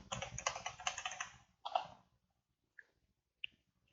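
Fingers type quickly on a computer keyboard for about a second and a half of close, rapid clicks, followed by a few isolated single key taps amid quiet.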